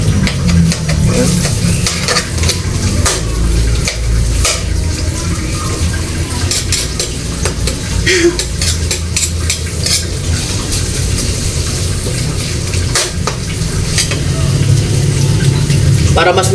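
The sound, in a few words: sautéing onion and garlic in a pan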